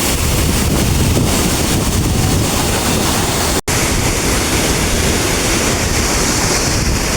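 Water pouring over the overflowing Bor lake makes a steady, loud broadband roar mixed with wind buffeting the microphone, continuous throughout with one brief dropout.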